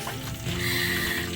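Snakehead fish frying in hot oil, a steady close sizzle with a bright hissing layer that swells partway through and holds, no voices over it.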